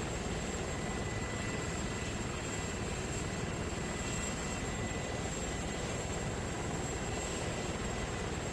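A military aircraft rolls along the ground, its engine giving a steady, continuous drone with a high whine running through it, loud and close throughout with no break.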